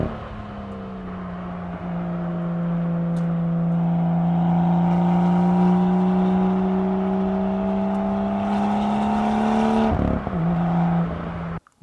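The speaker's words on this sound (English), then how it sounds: "it's probably the best sounding 6-cylinder ever made" A BMW M2 with the N55 six-cylinder engine revs steadily, its tone rising smoothly over several seconds before the pitch drops sharply as the engine falls back and cuts off.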